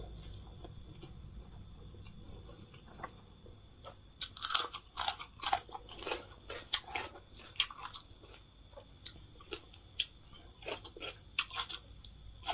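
Someone eats khao pun noodle salad, crunchy bites and wet chewing close to the mic in irregular bursts over a quiet background, no talking.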